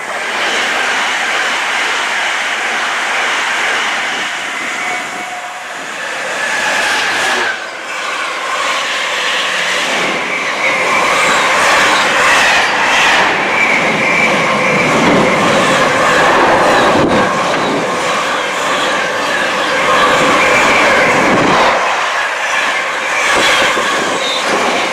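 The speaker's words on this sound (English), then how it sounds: "our train is just pulling in" A train rolls into Cheddington station, its rumbling wheels and clattering cars growing loud and close, with faint squeals over a steady rushing roar.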